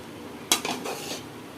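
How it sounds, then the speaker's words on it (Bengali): Ghee-cooked rice for kacchi biryani is stirred in a pot, making one brief metallic scrape and clink of a spoon against the vessel, then fading to quiet. "আগে রাইসটা একটু মিক্সড করে নেই"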